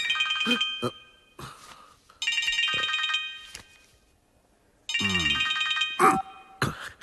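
A phone rings with an incoming call in a Malayalam comedy film scene, bursts of electronic ringtone coming in three separate spells with quiet gaps between them, and brief voices are heard in between.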